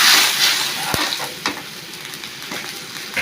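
Ginger and garlic sauté in a pan with a little water, giving a close, bright sizzle with a few sharp scraping stir strokes that fades slightly as it goes on, with no speech.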